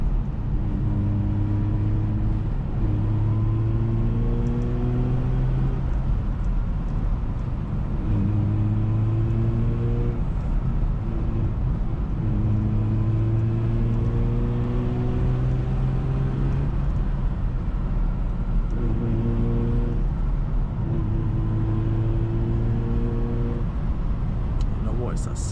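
A Mazda RX8 Spirit R rotary engine pulls hard in second gear on an empty road in Japan, its loud, steady drone rising in pitch in repeated sweeps as it gears up, heard from inside the car.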